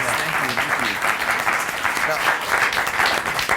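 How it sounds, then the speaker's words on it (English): An audience applauds after a talk by two speakers, steady, full clapping from a sizable crowd, with speech mixed in over it. "give that a round of applause"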